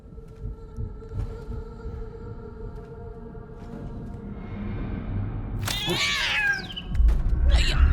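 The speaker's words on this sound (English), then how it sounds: "You don't step on the fucking cat." A cat in the video game Death Stranding 2 lets out a short, sharp, wavering meow after being stepped on. It rises out of a low throbbing hum and soft rumbling game ambience.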